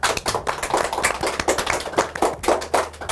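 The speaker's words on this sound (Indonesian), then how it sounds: "Tepuk tangan semuanya." Applause welcoming guest Shinta Devi, a former JKT48 Gen 9 member, on a talk show: a small group clapping in uneven, close bursts with no talk over it.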